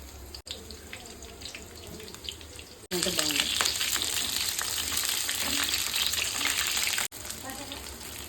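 Quartered eggplant pieces fry in hot oil, a dense hissing sizzle that jumps louder midway for several seconds before settling back, with a quieter crackle on either side.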